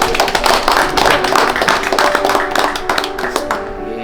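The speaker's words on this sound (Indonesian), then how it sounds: "Tepuk tangan dong." An audience applauds at an official meeting with dense, loud, sustained clapping from many hands that fades out toward the end, with faint voices underneath.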